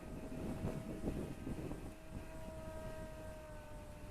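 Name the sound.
electric motor of a Volantex Ranger G2 RC FPV glider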